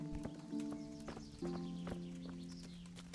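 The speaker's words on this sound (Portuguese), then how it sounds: "esse aqui é o cavalo dele" A horse's hooves clip-clop steadily at a walking pace in Kingdom Come: Deliverance, fairly close, layered over sustained tonal music with a sharp click at the end.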